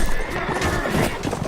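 A horse whinnies in a medieval battle video game, a loud, strained neigh rising over a dense wash of combat noise and hooves with no pause in the surrounding din.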